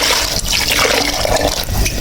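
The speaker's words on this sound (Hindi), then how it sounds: "इसके अंदर हम 2 लीटर के करीब पानी शामिल कर देंगे।" About two litres of water poured into a cooking pot holding black chickpeas and ground cumin, a loud, steady rushing splash that runs continuously and close up, with no one talking.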